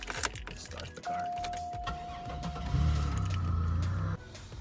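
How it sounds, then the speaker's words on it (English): A car's engine starts and briefly runs with a low rumble during a thermostat replacement with the coolant bleeder cracked open. It comes after a steady electronic chime and clicking, then cuts off quickly. "So what you want to do is start the car."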